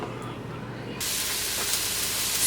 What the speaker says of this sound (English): So I'm just sweating a little bit of onions and green peppers